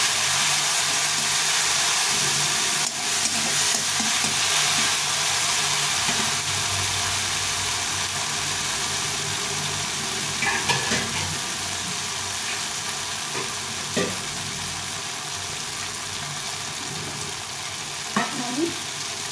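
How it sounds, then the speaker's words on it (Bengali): Tomato with turmeric frying in a pan makes a continuous close sizzle with occasional scraping stirs and a low steady hum underneath, no talking. "এই টমেটোটা ভাজা ভাজা হয়ে গেছে"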